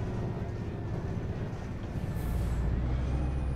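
A Van Hool New AGG300 articulated bus in the OMSI 2 driving game brakes hard, a broad low rumble with a brief hiss of air brakes, engine noise steady throughout.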